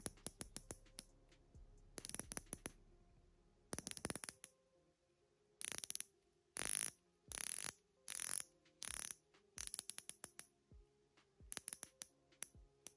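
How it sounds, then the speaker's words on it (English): Rotating ceramic bezel on a San Martin BB58 homage dive watch, turned in repeated bursts of crisp, rapid ratcheting clicks separated by short pauses, close and clear with no other sound. "The bezel has a very satisfying click and is aligning perfectly."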